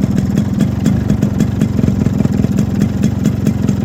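Yamaha RXG motorcycle engine running at idle, a loud, close, steady two-stroke-style pulsing throb with no talk over it.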